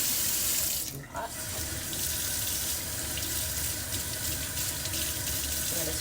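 Tap water runs steadily into a kitchen sink while potatoes are scrubbed with a vegetable brush, a continuous broadband rush with a brief dip near the start and no talk over it.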